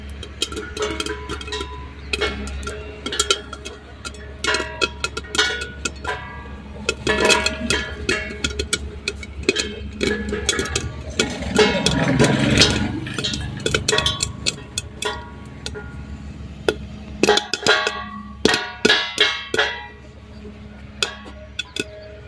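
Popcorn kernels popping in a covered pan on a home stove, starting as scattered sharp pops and building into a denser burst of crackling near the end, close and moderately loud.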